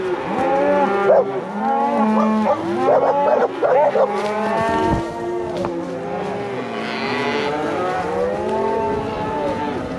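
Loud, drawn-out cow moos overlap one another as cattle are driven through deep timber, several animals lowing close by with rising and falling tones, fading to quieter calls toward the end.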